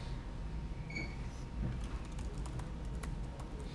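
Typing on a computer keyboard during a software demo, a brief run of light scattered key clicks over a low room hum, fairly quiet and close.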